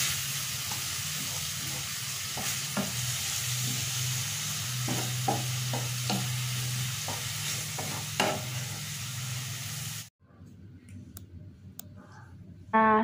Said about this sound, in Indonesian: lalu kita tumis lagi sampai airnya hilang lagi, sampai kering lagi